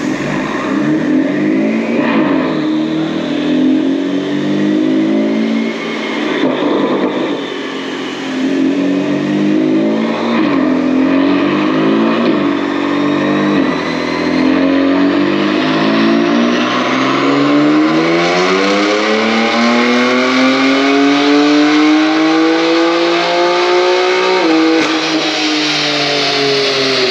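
A BMW F80 M3 with a hybrid turbo engine revs hard on a dyno, its loud, close engine note climbing steadily in pitch through long pulls with brief dips and rises, running continuously with no talking.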